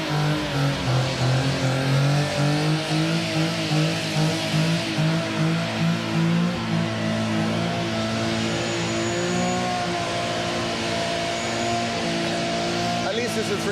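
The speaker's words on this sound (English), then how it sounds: "At least it's a 350Z, so it's not too loud." A Nissan 350Z drift car at a Drift Masters event revs loudly with rising and falling engine tones, and a brief tire squeal comes through near the end, all up close.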